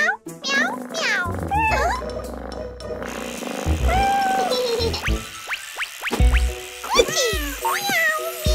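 Cartoon cat meowing inside a children's animated song about turning into a cat, with repeated bright meows over sung vocals and music throughout.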